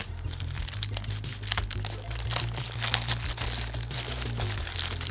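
Packaging for EKSA GT1 Cobra wireless gaming earbuds is pulled out and unwrapped close up, giving continuous crinkling and crackling plastic with sharp crunchy bursts over a low background hum.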